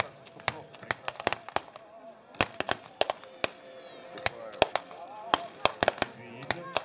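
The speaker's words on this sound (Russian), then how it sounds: "вот как пулеметы на шахту стреляют" Machine guns fire at a 2019 reenactment of the Battle of Gumbinnen, heard as sharp, irregular bursts and single cracks from a moderate distance, with voices talking in between the shots.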